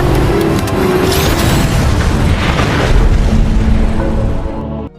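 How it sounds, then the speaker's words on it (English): Missile explosions in an action film scene: heavy booming blasts and rumbling detonations fill the whole stretch, loud and continuous, cutting off abruptly at the end. "launches missiles at their adversary"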